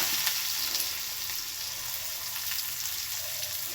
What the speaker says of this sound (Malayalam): ഞാനിത് ഒരു ചീനച്ചട്ടി വെച്ചതിനകത്ത് കടുക് വറുത്തു. ഇനി കുറച്ച് സവാള,